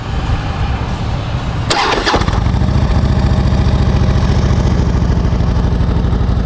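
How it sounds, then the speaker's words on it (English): A used Harley-Davidson Ultra Classic FLHTCU motorcycle cranks over and starts at about 1.7 seconds, then settles into a loud, steady, close-up idle through its exhaust pipes. "See what the pipes sound like."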